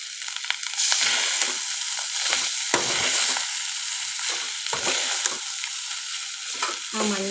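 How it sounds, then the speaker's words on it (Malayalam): Cooked rice is stirred in a hot frying pan, giving a loud, steady sizzle with repeated scraping strokes of the spoon close by and no voices. "ഇതിലേക്ക് നമ്മൾ എടുത്ത് വെച്ച ചോറ്, വേവിച്ച് വെച്ച ചോറ് ഇട്ടിട്ട് നന്നായി ഒന്ന് ഇളക്കണം കേട്ടോ."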